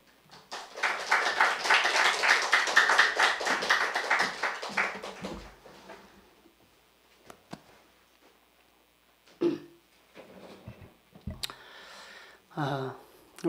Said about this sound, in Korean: 환영하는 마음으로 큰 박수로 목사님을 모시도록 하겠습니다